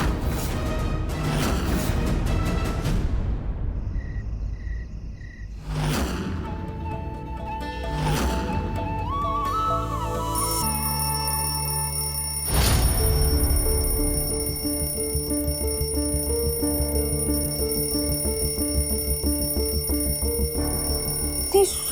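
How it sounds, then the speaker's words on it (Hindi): A morning alarm clock in a Hindi TV drama rings in a chiming, electronic pattern over a busy music score, with shifting tones and a sustained ringing layer through the second half. "सुबह का अलार्म"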